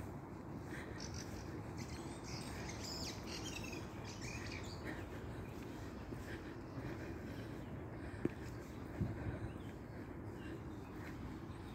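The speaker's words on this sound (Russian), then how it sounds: "Птички поют." Birds sing in a city park in Moscow on a spring morning, with faint scattered chirps and calls over a steady background hum, distant and soft, with no voices.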